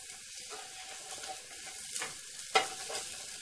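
Onions sizzle softly in a pan while being stirred, a faint steady frying hiss broken by light scraping and one sharp clatter of the utensil.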